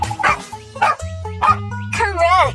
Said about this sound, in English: Correct, it's a dog.